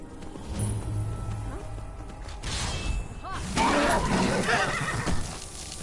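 A horse in the video game Skyrim whinnies loudly amid clip-clopping hooves and game effects, with a brief shimmering whoosh partway through.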